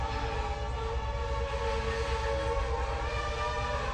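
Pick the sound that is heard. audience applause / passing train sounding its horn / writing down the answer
passing train sounding its horn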